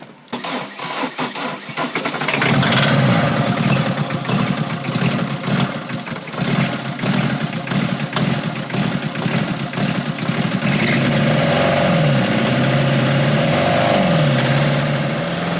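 An old car in a homemade speed-test parody cranks and fires after about two seconds, then runs loud and close with the throttle held open, the engine roaring unevenly with rhythmic pulses and no speech.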